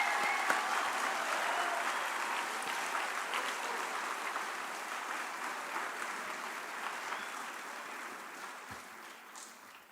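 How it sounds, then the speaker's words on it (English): Audience applause at a high school academic awards ceremony: sustained clapping from a seated crowd fills the room, starting strong and gradually tapering off, with no talk over it. "Let's give them a round of applause."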